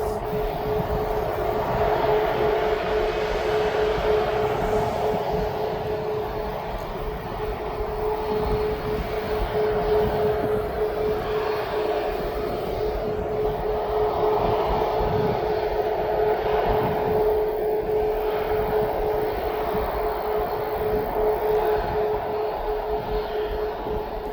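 Ryanair airliner departing East Midlands Airport bound for Venice, a steady, sustained jet engine roar with a constant droning tone, continuous and fairly loud throughout, with no voices.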